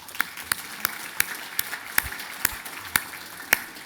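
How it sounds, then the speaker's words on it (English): Sparse applause at a business summit: a thin, scattered patter of hands under a handful of sharp, louder claps spaced roughly every half second, fairly close. "give Fran O'Sullivan and Michael Barnett a round of applause for putting on a great day today."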